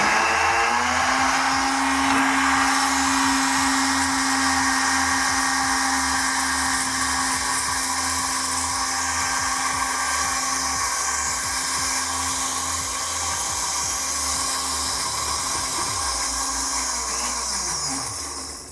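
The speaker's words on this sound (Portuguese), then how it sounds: "Eu vou começar a bater ele com azeite de oliva" A blender whirs at high speed, blending food with olive oil into a thick paste. The motor stays loud and steady for about eighteen seconds, then slows slightly toward the end.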